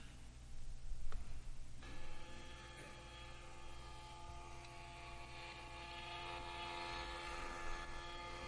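A reinforcement-learning-controlled helicopter hovers in steady flight, giving a continuous engine and rotor drone with a sharp knock near the start, staying fairly even and moderately loud throughout.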